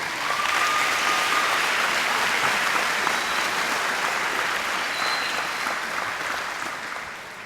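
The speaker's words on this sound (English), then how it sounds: "Let's give our Silver Steppers another round of applause, please." Another round of applause from the crowd at a veterans celebration for a performing group of Silver Steppers: sustained, dense clapping from many hands, steady at first, then gradually fading toward the end.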